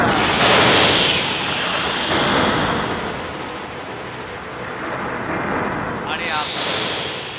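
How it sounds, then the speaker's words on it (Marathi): A storm sound effect of wind and rain roars steadily as a dense broadband wash, loudest at the start and easing slightly, with a brief brighter sweep near the end. "पाऊस यायलाय, वारा यायलाय,"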